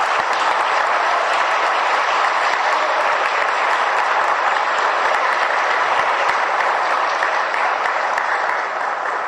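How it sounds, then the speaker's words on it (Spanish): Church congregation at a Catholic Mass giving a loud, sustained round of applause, dense and steady clapping filling the space with little talk. "te bendecimos dándote un fuerte aplauso"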